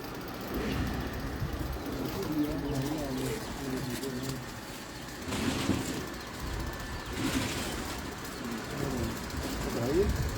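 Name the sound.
pigeons cooing in a loft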